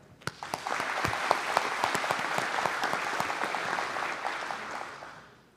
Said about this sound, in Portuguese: Especiais palmas para a doutora Ogari de Castro Pacheco, homenageado da noite.